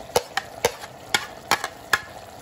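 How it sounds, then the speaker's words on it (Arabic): Tomatoes tipped into softened onions in a pot of Egyptian kebab stew, giving a few sharp stirring knocks and soft sizzles at a steady, uneven rhythm, close and moderately quiet with no talking. "هنزل بالطماطم"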